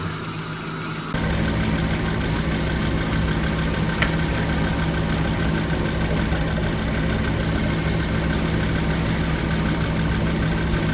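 A Volvo car engine idles steadily after a short quieter start, a constant low rumble with a faint whine, no voices.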